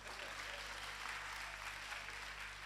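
A church congregation claps in steady, continuous applause that fills the room at a moderate level, with a low electrical hum underneath.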